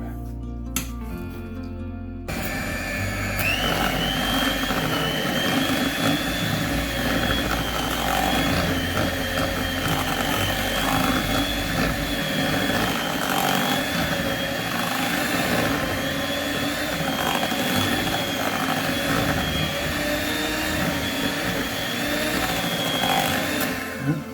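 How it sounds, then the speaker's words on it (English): An electric whisk beats Victoria sponge cake batter in a bowl, a steady loud motorised whir that runs continuously for about twenty seconds after a brief quiet start. "I can put the electric whisk in so it doesn't go everywhere"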